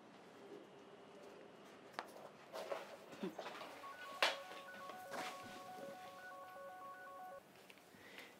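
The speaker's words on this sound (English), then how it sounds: "Dial his number for me on your phone." A telephone number is dialed on a mobile phone at home, a run of evenly spaced DTMF key tones sounding from close by in a quiet room, with faint rustling and handling around them.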